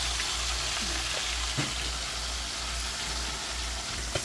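Atka mackerel fish frying in hot oil gives a steady, dense sizzle that stays loud and continuous, with a few faint clinks and stirs and no voices.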